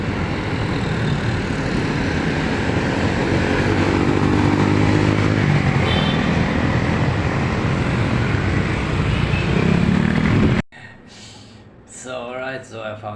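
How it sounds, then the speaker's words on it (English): Dense motorbike traffic on a busy Manila street, a steady loud roar of many engines and passing bikes for about ten seconds before it cuts off abruptly, followed by a short stretch of talk. "massive motorbike traffic"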